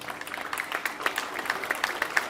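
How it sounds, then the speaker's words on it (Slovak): Audience applause at the Piešťanské zlaté stuhy event, a thin patter of scattered claps that sounds moderately distant and continues steadily throughout. "Máš aj potlesk."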